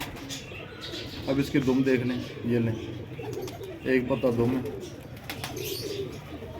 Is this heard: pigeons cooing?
yes